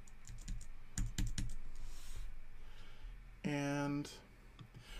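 Computer keyboard tab keys pressed in a web page during React accessibility work: several crisp clicks in quick succession, then a short tonal beep with stacked harmonics and a few more clicks, with faint talk in the background.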